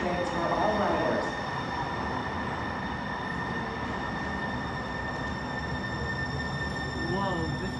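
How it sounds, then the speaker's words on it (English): A Link light rail train in Seattle pulls into a station, a steady rolling rumble with a faint squealing wheel tone, loud and close throughout with no talk over it. "Whoa, this train is cool."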